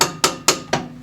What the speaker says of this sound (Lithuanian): Skrėmulį pakaitinus porą smūgių guminių plaktuko